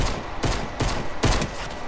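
Three sharp, loud gunshots spaced roughly evenly apart, pistol fire in a shooter video game, with a steady backdrop of game noise between the shots.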